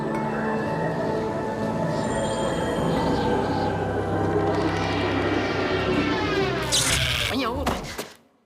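A sustained roaring takeoff rumble with rising whine, steady and loud, dropping away abruptly at the end into near silence.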